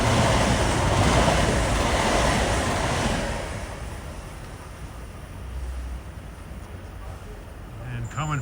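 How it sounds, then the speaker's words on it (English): LIRR dual mode train rushing through Queens Village station on the way to Penn Station, a loud roaring rumble that eases off midway, with someone speaking over it. "And coming fast behind him is train 39, dual mode powertrain from Spionk to Penn Station"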